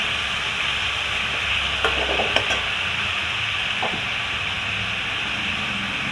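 Onion, capsicum and tomato fry for a pasta sauce in a pan, giving a loud, steady, close hiss with a few brief clacks from stirring, no voices.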